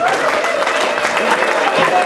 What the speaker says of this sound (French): qu'on applaudisse le chef